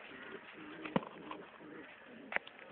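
Caged pigeons give two soft, throaty coos about a second and a half apart, close and fairly quiet against a faint room background.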